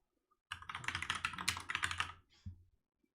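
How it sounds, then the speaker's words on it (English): Rapid clatter of keystrokes on a computer keyboard during a coding session, a dense burst of typing for about two seconds, then a short final flurry before falling silent; nearby and moderately loud, with no talking. "I'm sick of typing that over and over and over."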